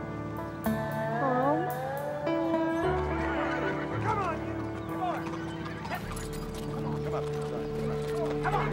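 A horse whinnies repeatedly with rising and falling neighs while hooves clip-clop nearby as it is led out to be shipped, with a low engine rumble joining near the end.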